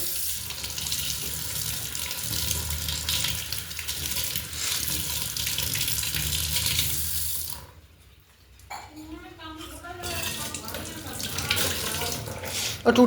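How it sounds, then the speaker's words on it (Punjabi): Water runs steadily from a newly fitted tap as a broad rushing hiss, briefly cut off partway through, then resuming with clinks and light movement. "ਆ ਨਵੀਂ ਟੂਟੀ ਲਵਾਈ ਆ"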